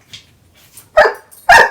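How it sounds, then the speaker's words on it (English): Two sharp, loud dog barks close by, about half a second apart, after a quieter yip at the start. "No barking, please."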